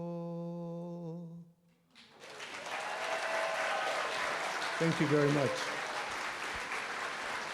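A talent show audience at a Mill Valley community event bursts into loud, sustained applause after a singer's closing note, the dense clapping filling the room while a voice speaks briefly over it.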